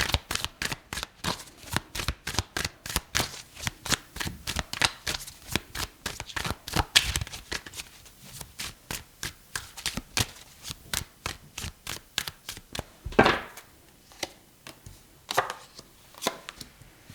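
Tarot deck being shuffled by hand, a long run of quick, crisp riffling snaps and flutters, close and fairly quiet, in several bursts with brief pauses.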